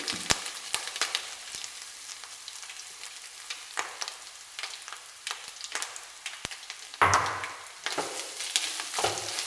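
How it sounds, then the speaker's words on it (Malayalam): Grated coconut fries in a pan, giving a soft, continuous sizzle and crackle with occasional sharper pops and scraping stirs, fairly quiet and close. "ഇതിന് നല്ല ഒരു ബ്രൗൺ കളറാകുമ്പോൾ നമുക്ക് ഇതൊന്ന് വറുത്തെടുക്കണം"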